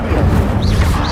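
In Hogwarts Legacy, the Incendio fire spell lets out a steady, loud whooshing rush of flame with faint swirling sweeps over it, sustained for about a second.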